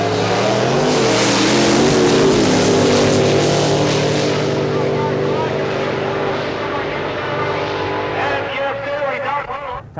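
A 1986 Datsun 300ZX drag car accelerates hard down a quarter-mile strip, its engine roaring loud and close before the note drops away, with an announcer talking over it.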